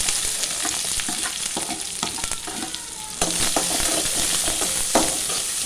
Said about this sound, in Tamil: வெங்காயத்தை போட்டு வதக்கிடுவோம்